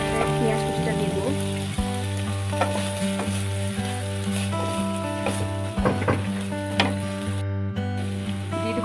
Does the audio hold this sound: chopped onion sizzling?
yes